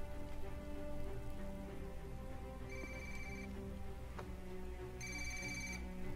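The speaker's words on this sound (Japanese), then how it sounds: "電話に出た方がいいぞ、" A telephone ringing in a video game, two electronic ring bursts heard over steady rain-like background noise, with no talk during the rings.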